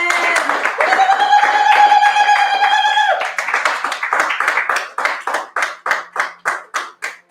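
A church congregation claps together at a worship service, first as dense overlapping applause mixed with sung or shouted praise and a held tone, then settling into loud, steady rhythmic clapping in unison.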